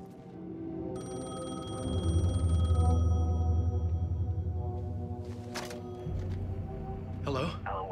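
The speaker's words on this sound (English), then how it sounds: "The payphone was ringing." A payphone rings in the video game Alan Wake II, a steady electronic trill sounding for a few seconds over low rumbling ambience, with brief voices speaking near the end.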